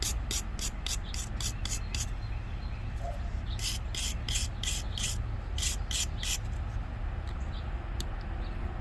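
Scrubbing excess gasket material from a two-stroke carburetor, heard as bursts of short, bright, rapid scrape strokes in clusters, with brief pauses between sets over a steady low background hum.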